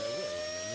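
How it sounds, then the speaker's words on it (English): Vacuum cleaner noise standing in for a character's voice in Garry's Mod playing Half-Life 2: a steady, droning mechanical whir with a high whine, continuous and fairly quiet through a short moment. "I'm just gonna replace his voice with the sound of a vacuum cleaner"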